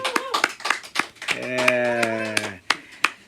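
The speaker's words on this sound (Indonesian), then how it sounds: "Kasih tepuk tangan dulu dong buat Nuzul everybody." A small group on a podcast set claps for a guest in sparse, uneven bursts of close hand claps, while a sustained voiced sound rises briefly in the middle.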